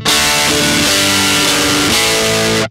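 Overdriven electric guitar through a Blackstar amplifier, comparing the Silverline Deluxe 100W 1x12 combo and the HT-20R MKII, on the distortion channel: loud, sustained chords with a couple of changes, playing alone.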